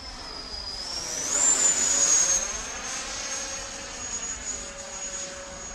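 An RC model Saab Viggen jet with a quad motor setup flies past, its loud electric whine rising and holding steady as it passes, with no talk over it.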